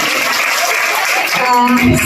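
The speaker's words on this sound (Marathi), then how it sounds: "एकदा जोरदार टाळ्या टिळकांसाठी" A crowd at a Ganeshotsav gathering in a housing society claps loudly and continuously for a child dressed as Tilak, a dense, even wash of applause throughout.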